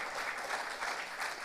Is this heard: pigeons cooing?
no